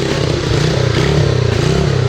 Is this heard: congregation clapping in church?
no